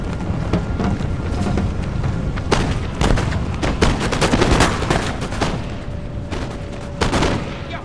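Musket volleys and battlefield gunfire in the strategy game Empire: Total War, rapid loud cracks and booms rolling together in a dense barrage over a constant battle din.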